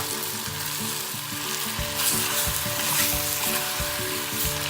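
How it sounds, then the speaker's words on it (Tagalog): Chicken and potatoes sautéing in a pan for chicken afritada, with a loud continuous close sizzle and occasional stirring clatter throughout. "Saute until the meat is a little bit brown."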